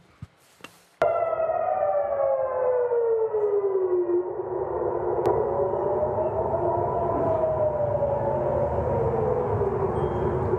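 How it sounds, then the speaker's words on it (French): Sharp knocks, then a loud civil defense air raid siren in Jerusalem wails in, warning of an aerial threat, its pitch sliding down and slowly rising again, sustained and distant-sounding. "Les sirènes à Jérusalem pour prévenir la population qu'une menace aérienne est en train d'arriver."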